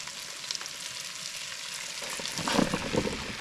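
Sliced onions and mushrooms fry in butter in a pot that just held browned steak, with a steady, close hiss of sizzling throughout. The sizzle grows louder and crackles more near the end as the vegetables are stirred.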